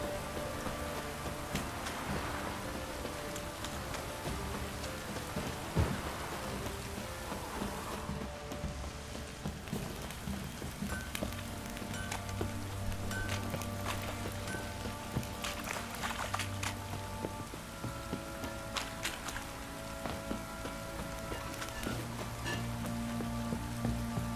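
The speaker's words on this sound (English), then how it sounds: "This downpour's a bastard, it is." In the video game The Witcher 3: Wild Hunt, heavy rain pours steadily, a dense patter of drops on surfaces with occasional louder splashes and soft low rumbles underneath.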